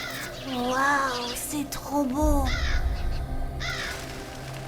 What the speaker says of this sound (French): Une nuée d'oiseaux.